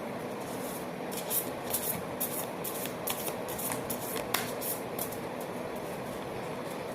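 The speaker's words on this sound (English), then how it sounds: "One last shuffle." A deck of oracle cards is shuffled by hand, giving a steady papery riffling and rubbing that runs on for several seconds with soft flicks and no talking.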